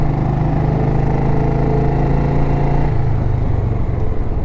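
A 1931 Ariel motorcycle with a new Amal carburetor chuffs along at a steady loud engine rumble, its low throbbing note shifting slightly partway through, with no talk.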